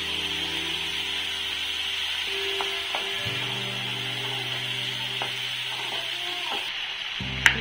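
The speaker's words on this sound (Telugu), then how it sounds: "ఇప్పుడు నేను టమాటా ప్యూరీ యాడ్ చేసుకుంటున్నాను." Tomato puree sizzles and fries in onion paste for an egg masala curry, a steady bright hiss with light stirring scrapes throughout and a few clinks near the end, fairly close and without talk.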